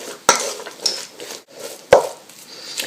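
Minced meat mixed with an egg in a bowl for Čevapčiči: two sharp utensil knocks against the bowl stand out amid soft squishing and scraping, close and fairly quiet.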